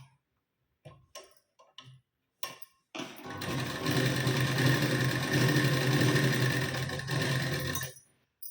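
Sewing machine stitching a blouse: a few short taps and clicks of the needle, then a sustained rapid whirring run of stitching for about five seconds before it stops.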